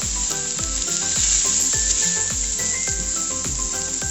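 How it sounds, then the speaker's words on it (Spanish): Dry bomba rice stirred and toasted in a hot pan for yellow rice with meat, a steady, loud, close sizzling hiss with light scraping swishes from stirring, no voices. "Lo movemos un poquito para que selle el arroz."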